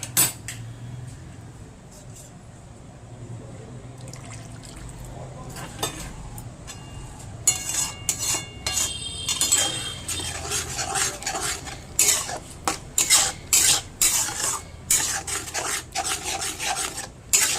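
A utensil scrapes and clinks against a pan as chicken kosha is stirred and sautéed, with a faint sizzle underneath; it starts quiet, then turns into busy, close scraping strokes.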